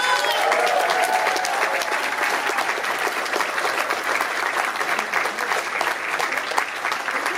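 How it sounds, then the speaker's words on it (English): A convention crowd at a horror convention gives sustained, dense applause for filmmaker Eduardo Sanchez, co-director of The Blair Witch Project, a steady loud roar of clapping throughout. "Let's give him a round of applause!"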